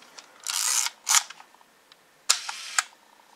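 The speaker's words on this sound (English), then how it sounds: "I'm going to test the shutter" Fuji GS645 medium-format camera shutter firing, a few crisp mechanical clicks and whirs in quick bursts, close and clear against a quiet background.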